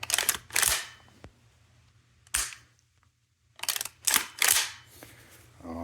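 The bolt of an ARX100 or Galil ACE rifle is worked by hand, sharp metallic clacks and sliding rattles in several close bursts with short quiet gaps between.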